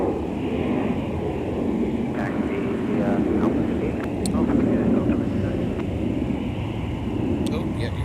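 An airliner at MSP airport on a cold day, its jet engines producing a sustained broad roar close by, with faint radio chatter and voices talking over it.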